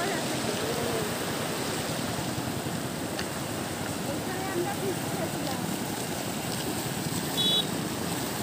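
Water in a nearby stream flows in a steady, broad rushing wash on a cool day at a picnic spot, continuous and fairly close, with a voice speaking faintly over it.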